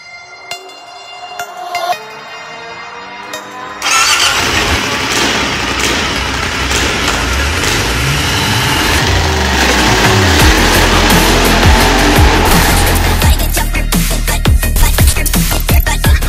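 An Aprilia Shiver 900 motorcycle engine fires up after a few clicks, then idles and revs repeatedly, loud and close, with sharp throttle blips toward the end.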